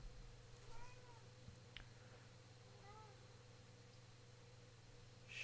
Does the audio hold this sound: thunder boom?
no